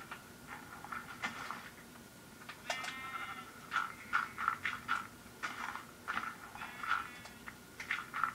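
Minecraft sheep bleat over and over in short nasal cries, some rising into quavering calls, mixed with soft crunching sounds and no voices.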